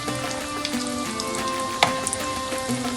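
A chicken sandwich pakora fries in oil over low to medium heat, producing a continuous close sizzle with scattered crackles and one sharper pop, with no talk.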